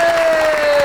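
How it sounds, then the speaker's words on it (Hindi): Studio audience applause welcoming a guest on a Pakistani comedy talk show, a short steady wash of clapping and crowd noise with a sustained tone running through it. "आपकी बहुत सी तालियों में"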